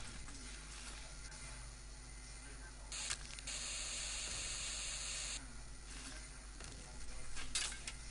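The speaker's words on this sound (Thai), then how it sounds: "อ๋อต้องใช้สเปรย์ฉีดก่อน" Spray can hissing in a video game, a faint steady spray burst of a few seconds set among mechanical clicks and creaks in the game audio.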